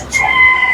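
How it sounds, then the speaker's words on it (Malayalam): A black rooster gives a brief, loud, close crow with an odd, strained tone, a single short call heard on its own. "ആ കോഴിയുടെ കൂവലിന് എന്തോ പ്രശ്നമുണ്ട് കേട്ടോ."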